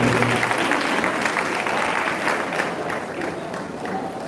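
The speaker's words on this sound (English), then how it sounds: "Please a round of applause." An audience applauds a noble award presented to a professor. The clapping is full and continuous and fades slightly toward the end, with a faint murmur of the crowd beneath it.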